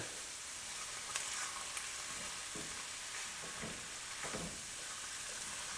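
Garlic fries in a cauliflower and mushroom skillet, giving a soft, steady sizzle broken by a few light scrapes and clicks as it is stirred.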